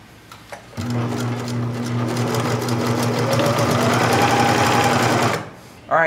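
A sewing machine back-stitches the edge of a handwoven tote in one loud, steady mechanical run of rapid needle chatter lasting several seconds, then stops, with a brief start again at the very end.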